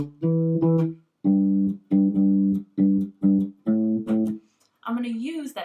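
A bass line plays as a rhythmic riff of short repeated notes in separated bursts, close and clear, ending in a sliding, wavering tone.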